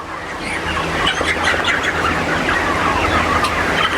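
A crowded poultry-farm shed of broiler chickens, with continuous layered clucking and squawks filling the space at close range, no talk.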